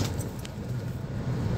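A car being driven, its steady low engine rumble and road noise filling the cabin at moderate level throughout, with a faint light jingle early on and no clear talk.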